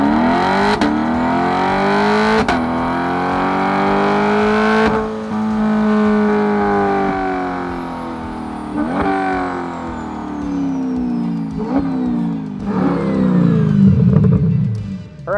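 Chevrolet C8 Corvette fitted with Paragon headers revs loudly and close up, its engine note rising and falling through several sharp throttle blips over a sustained high-rpm drone, with no talking.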